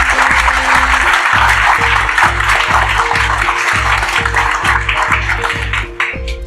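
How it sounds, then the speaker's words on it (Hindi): A large audience at an IIT student talk claps loudly and steadily, a dense wash of applause filling the whole stretch with a low rhythmic thumping underneath, easing slightly near the end. "एक बार तालियां तो हो जाए भाई"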